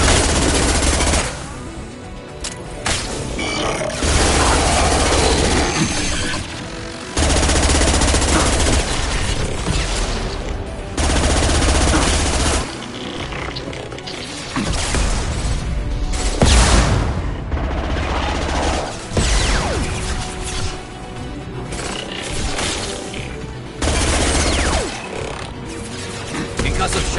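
Rapid automatic gunfire and explosions from the video game Mass Effect 2, heard in loud dense bursts separated by short pauses, with in-game voices speaking between the shots.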